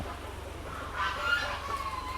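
Fowl and other birds call at a village cow shelter: a few short, clucking, chicken-like cries rise faintly over a steady low background hum.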